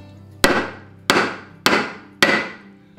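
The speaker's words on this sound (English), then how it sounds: "get yourself a wooden V block like this and set it up in there and just whack it down in there" Four sharp, ringing hammer blows at a steady pace strike a silver cuff bracelet held in a wooden V block, each hit decaying quickly, close and loud with no voices.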